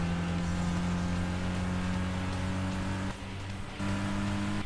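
A small Volkswagen Lupo in Gran Turismo 5 cruising with a steady droning engine hum at constant revs, broken by a brief dip like a gear change, with no voices.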